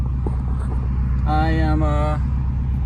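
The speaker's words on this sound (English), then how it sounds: "test drive time with the new spark plugs" A car out on a test drive after fresh spark plugs were fitted, its engine and road rumble steady and close throughout, while a person speaks briefly over it.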